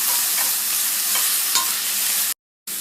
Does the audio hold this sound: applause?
no